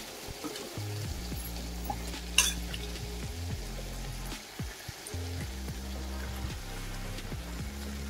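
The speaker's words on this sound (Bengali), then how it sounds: "চিকেনগুলো দেওয়ার পরে আমি আবারও ভালো করে এভাবে নাড়াচাড়া করে নেব।" Spiced chicken pieces stirred in a pan while frying for Bengali chicken kosha, with steady sizzling and repeated scraping of a utensil through the masala, plus one sharp clink, close and continuous with no talk.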